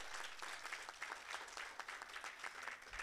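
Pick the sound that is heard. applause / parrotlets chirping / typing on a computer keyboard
applause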